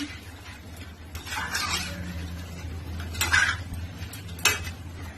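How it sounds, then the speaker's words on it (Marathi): Metal pot lid lifted off and a spoon stirring chicken in a pan, giving a few scraping and clinking bursts over a low steady cooking hum. "आपण झाकण काढून बघूया, जरा परतून घेऊया."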